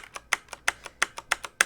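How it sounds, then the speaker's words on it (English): A mechanical keyboard key with a brown switch is pressed to bottom out repeatedly, each press ending in a sharp plastic clack; about ten crisp, evenly spaced clicks, close-up and alone. "the clack that you hear is when the key like bottoms out here"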